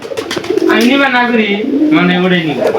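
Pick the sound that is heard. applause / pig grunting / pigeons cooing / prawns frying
pigeons cooing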